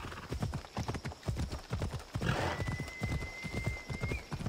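Rhythmic horse hooves clip-clopping at a steady trot in the video game Assassin's Creed Odyssey, close and clear, with a faint whinny and a brief tonal whine partway through.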